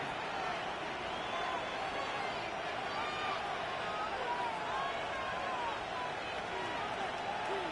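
Roaring stadium crowd noise in the Madden 26 football video game, a dense, loud, continuous wash of cheering and whistling that holds steady and is uninterrupted throughout.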